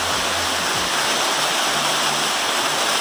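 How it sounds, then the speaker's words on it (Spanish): Waterfall at Cascada del Sauce pouring down in a steady, loud broadband rush of falling water that fills the whole stretch without pause. "nos encontramos aquí en la Cascada del Sauce, acabando de bajar por una liana"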